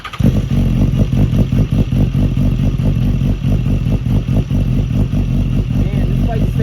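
A BMW S1000RR motorcycle with a full titanium Arrow exhaust idles close by with a loud, steady, throbbing pulse, sharply blipped at the start, and a voice joins partway through.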